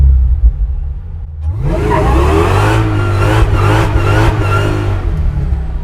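A 745 hp Chevy C10 pickup starts a burnout with a sudden engine rev that climbs into a sustained loud roar and screeching tire squeal, pulsing as the throttle is worked, with no talking.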